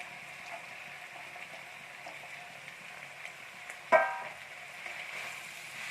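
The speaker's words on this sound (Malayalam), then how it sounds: "ഈ സവാള നമുക്ക് ഇതിലോട്ടൊക്കെ ഇട്ട് കൊടുക്കാം." Sliced onions fry in oil in a pan with a steady, soft sizzling hiss, broken once by a sharp clatter from the pan or utensil.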